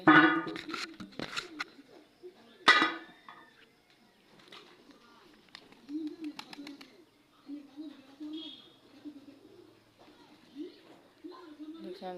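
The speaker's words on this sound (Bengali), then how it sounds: "সকালে খাবার খাচ্ছে তো সুন্দর" Young pigeon chicks feed in the morning, giving soft intermittent coos and scattered light clicks and pecks in a quiet setting.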